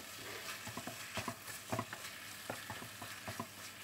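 Ground meat seasoned with salt and cumin sizzles quietly in a pan over high heat, with soft crackles and pops and the occasional scrape of stirring.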